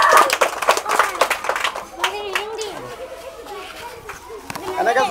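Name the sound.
children clapping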